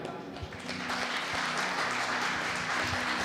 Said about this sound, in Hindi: इसलिए प्रभु को धन्यवाद देते हुए ताली बजाएं।